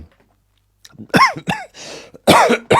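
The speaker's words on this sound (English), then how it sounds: "hopefully I won't cough too much" A man who has been ill coughs several times in short harsh bursts, close and loud, with a raspy throat-clearing sound between them.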